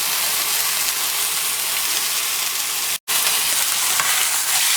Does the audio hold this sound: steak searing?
yes